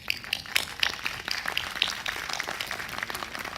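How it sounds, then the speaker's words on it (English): Scattered, faint clapping from a Xiaomi fan audience at a Redmi Note 5 event, a thin patter of individual claps that never builds into loud applause. "Please give yourself a round of applause"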